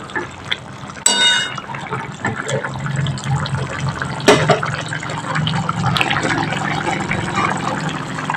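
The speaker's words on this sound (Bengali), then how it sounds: "এবার আমি একটু নেড়ে নিচ্ছি।" A vegetarian cauliflower curry in a pan being stirred: loud, continuous wet sloshing and bubbling with spoon scrapes, broken by a couple of sharp clanks against the pan.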